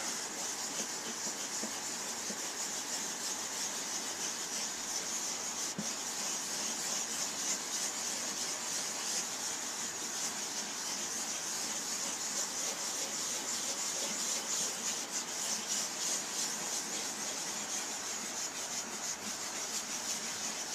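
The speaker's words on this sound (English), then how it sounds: "rub that around, rub off the excess" A shellac-and-alcohol French polishing pad rubs over guitar wood in a steady, continuous scrubbing swish, close and even throughout, with no voices.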